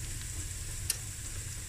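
Turmeric and masala spice going into a pan for sardine and mussel akhni: a quiet, even frying sizzle continues throughout, with one brief sharp tap near the middle.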